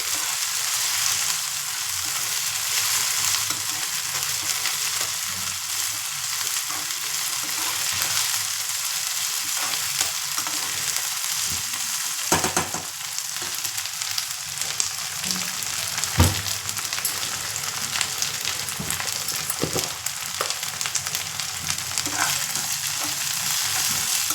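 Masala frying steadily in a pan for village-style country chicken curry, a continuous close sizzle with occasional stirring scrapes and a few sharper clatters, no voices.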